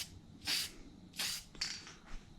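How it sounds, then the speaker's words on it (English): Three short hissing bursts of a spray can applying light coats to intake runners, each about a quarter-second, spaced apart with quiet pauses between them. "Spray light tacky coats first."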